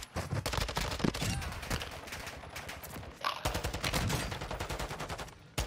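Rapid automatic gunfire in a video game shooter, loud and continuous volleys of closely spaced shots with one brief pause before the firing resumes.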